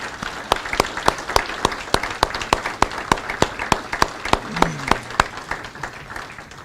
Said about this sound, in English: ask all of you to take a moment and give Tom a well-deserved round of applause